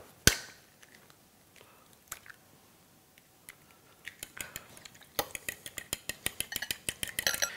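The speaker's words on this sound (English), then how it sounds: "crack our egg" An egg cracked sharply on a hard edge, followed by quiet wet sounds, then a run of rapid clinking and squelching as it is whisked with a utensil, close and fairly quiet, with no talking.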